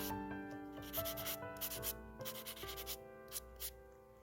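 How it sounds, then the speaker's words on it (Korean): Light sanding with a sanding block on a silk nail extension, quick rhythmic rubbing strokes in short bursts, close and soft, over faint background tones. "샌딩 블럭으로 가볍게 샌딩을 해줍니다."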